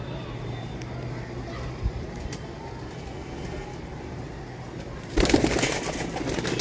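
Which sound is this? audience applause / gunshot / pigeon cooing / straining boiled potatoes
pigeon cooing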